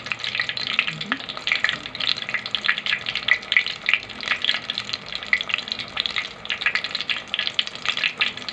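Crispy cauliflower coated in a flour, egg and salt batter sizzles steadily in hot oil, a dense continuous crackle with bubbling pops throughout, close and fairly loud with no voices.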